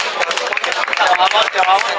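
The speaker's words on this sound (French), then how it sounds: "lui faire un tonnerre d'applaudissements" Dense, loud, continuous applause from a convention audience at the 2012 Iveco convention in Vichy, a thick steady patter of many hands with voices mixed in throughout.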